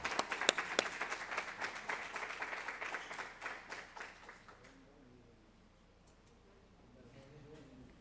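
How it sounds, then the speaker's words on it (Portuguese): Crowd applause at a municipal ceremony awarding honorary citizenship to a former football coach, sharp clapping that dies out by the midpoint, followed by quiet room murmur. "Nossos aplausos ao Rubinho, ganhador do título de cidadão penapolense"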